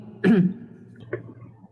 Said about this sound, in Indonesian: Kayak mau batuk-batuk ini.